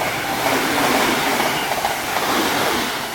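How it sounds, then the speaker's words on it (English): A Class 365 electric passenger train passes through Welham Green with a steady, fairly loud rushing rumble and a faint rhythmic clatter of the wheels, heard alone. "Okay, next train to turn up is a 365."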